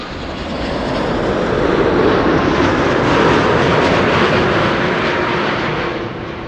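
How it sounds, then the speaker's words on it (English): Delta Boeing 787-10 Dreamliner landing at Amsterdam Schiphol, a loud broad jet roar that swells in over the first second, holds strong, then eases slightly toward the end, with no voices. "Delta Airlines flight 872 is coming in next, arriving from Delhi, 787-10 Dreamliner"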